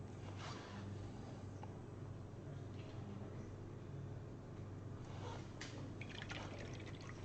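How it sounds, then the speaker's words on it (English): Airbrush spraying paint onto a miniature figure as skin tones are painted, a steady close hiss of air running continuously with faint fluctuations. "the airbrush onto the miniature."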